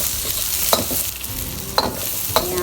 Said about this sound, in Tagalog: Unahin na natin igisa ang bawang. Sinunod natin yung sibuyas.